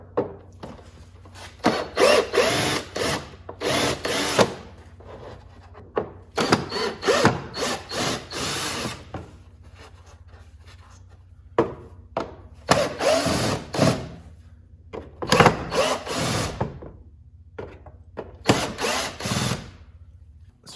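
A power drill backing out Phillips head screws on the air filter cover of a Mk5 VW 2.5, heard as repeated loud whirring bursts of a second or two each, separated by quiet pauses.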